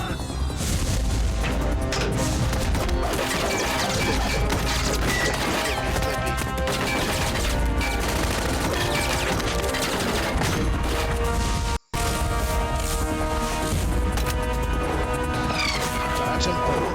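Gunfire and crashing impacts in the video game Metal Gear Solid, loud dense shots and smashes layered over a music score, with one sharp cut near the end.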